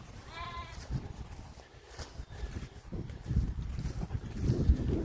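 Sheep bleat on a farm where rams and ram lambs are kept, a clear wavering bleat near the start followed by more animal noise, rustling and movement that grows louder toward the end.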